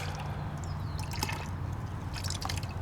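Water runs into a cup of car-wash shampoo solution for washing a Corolla, a steady close trickle with scattered drips and splashes, no voices.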